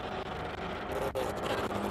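A classic Porsche race car, prepared in outlaw style, climbs a hill-climb course with a steady, broad engine roar that holds throughout and rises slightly toward the end, no talk over it.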